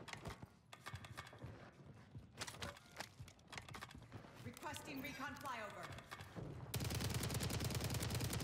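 Rapid bursts of STG assault rifle fire in a Rebirth Island battle royale match, sharp repeated shots scattered through the clip and growing dense and loud near the end, with game sounds mixed in.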